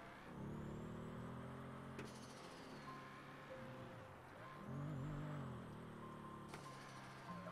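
A car drives around in a video game, its engine droning steadily with shifts in pitch as it accelerates and changes gear, faint and continuous without talk.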